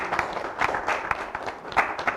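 Studio audience at a French talk show applauding a guest's entrance, a brisk patter of many hands with a few sharper individual claps standing out, fairly close and steady over a short stretch.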